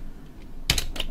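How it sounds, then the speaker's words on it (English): Sharp clicks of computer keys being pressed, a quick double tap then another press, close and crisp during PC Minecraft modding with no talk over them. "push T on the keyboard"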